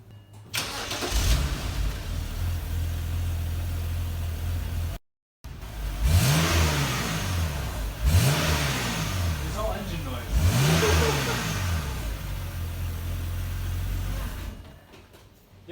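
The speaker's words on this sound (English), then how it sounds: "This is a warm start on my car before we take the exhaust off." A BMW engine starts warm and idles through its exhaust, then revs up three times in rising, swelling pulls, loud and close, before settling back.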